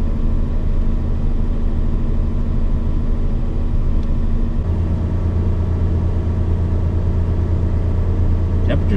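Car engine idling steadily in a low, continuous rumble, close and loud throughout, with the tone settling slightly deeper partway through.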